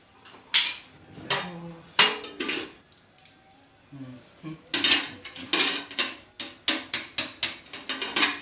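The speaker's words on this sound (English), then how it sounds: "I'm going to have to bend that lid out" A dust collector's metal lid is worked and bent out, giving sharp metallic clanks and scraping knocks close by, scattered at first, then a quick run of regular, ringing strikes.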